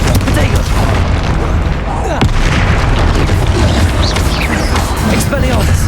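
Loud, dense spell-blast booms fill a Hogwarts Legacy battle, with a sharp crack near the middle over a constant rumbling roar and voices calling out.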